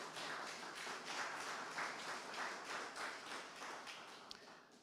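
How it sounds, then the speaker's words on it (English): Audience clapping at an agricultural farm tour launch, a steady patter of many hands at moderate level that holds evenly before thinning slightly at the end. "I think we should give Isratech a big round of applause."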